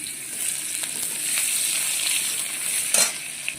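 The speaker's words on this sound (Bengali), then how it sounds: "বড়ো করে পেঁয়াজটা ফোড়ন দিয়ে নিলাম" Large-cut onion frying in hot oil with whole cumin seeds and bay leaf, a loud continuous close sizzle with occasional scraping stirs and one sharper crackle burst near the end.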